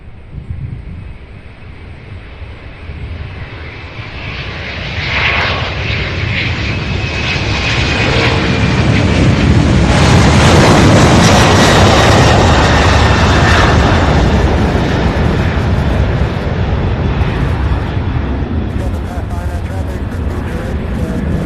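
UPS MD-11 jet engines roar loud and close at an airport in Louisville, the sound swelling from a steady rumble to a broad, sustained roar that peaks midway and holds, with wind buffeting the microphone.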